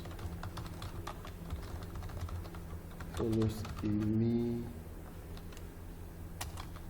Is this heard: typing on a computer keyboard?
yes